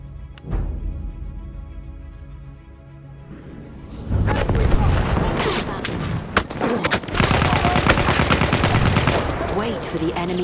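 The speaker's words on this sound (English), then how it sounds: "Wait for the enemy artillery barrage to stop firing." Enemy artillery barrage in Battlefield 1 on a desert map: after a quiet opening with a soft tonal backdrop, loud heavy explosions and thunderous gunfire erupt and roll on continuously, close and dense.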